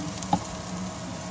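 Onions and kangkong (water spinach) sauté in a pan with a continuous low sizzle and a single soft stir or clink near the start.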